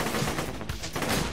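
Rapid volley of shotgun blasts in the first-person shooter Borderlands 2 at Fink's Slaughterhouse arena, dense overlapping bangs and thuds filling the short stretch with little pause.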